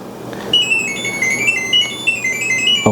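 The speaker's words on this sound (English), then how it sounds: "now the app already synchronized with the sound from aircon" LG air conditioner sending its Smart Diagnosis data tone: a rapid sequence of shifting high electronic beeps and chirps that plays steadily for over two seconds, fairly close and clear above a quiet room background.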